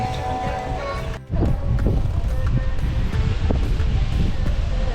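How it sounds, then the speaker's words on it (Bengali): Sea waves break near a seaside temple in Kanyakumari, a loud continuous roar and wash of surf with wind noise, briefly dropping out before surging back. "ঢেউয়ের আওয়াজ"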